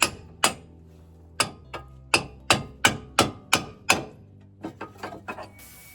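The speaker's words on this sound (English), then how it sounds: "Then I'm gonna whack it with a hammer." A hammer repeatedly whacking a steering knuckle to free a lower ball joint from the control arm, about a dozen sharp ringing metal strikes, close, the later blows quicker and lighter.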